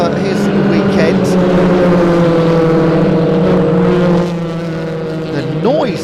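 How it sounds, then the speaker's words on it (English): Mini race cars roar around the Thruxton circuit during a BARC race meeting, a loud sustained multi-engine howl with overlapping pitches, one car rising and falling as it passes near the end, while a commentator talks over it. "The noise of these minis is quite tremendous"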